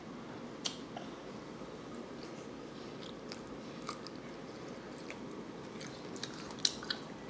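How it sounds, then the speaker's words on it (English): A child chewing broccoli while eating it for the first time, with soft, close mastication and a few faint crunchy bites over steady low background noise, no talking. "Chew it really well, okay?"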